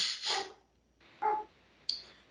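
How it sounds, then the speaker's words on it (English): A dog barks a few times in short, irregular bursts, a quick double bark first, then two more single barks after pauses. "Dogs are barking."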